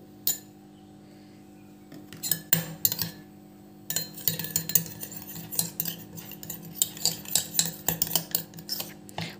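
A spoon stirs turmeric into raw milk in a bowl, quick repeated clinks and scrapes of metal against the dish after a brief quiet start, close and fairly loud, no voices.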